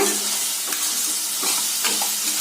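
Ground masala being stirred into brinjal frying in a pan: a steady broadband sizzle with a few soft scraping stir strokes, close and continuous, no voices.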